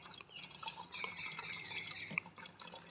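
Liquid trickles and drips steadily as coolant is mixed with plain water for a Benelli BN600i water pump repair, faint and close with no voices.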